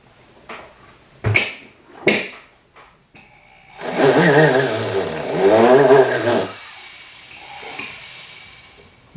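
A few sharp clicks come first, then a ball burr in a rotary tool drills a hole in a metal sword-shaped jewelry pendant, giving a loud, close whine that rises and falls for a few seconds before stopping.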